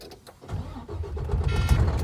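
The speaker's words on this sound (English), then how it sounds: "So I'm gonna start my truck" A truck's engine cranks and catches, first a short starter whir, then a deep rumble rising to a steady, loud, close idle.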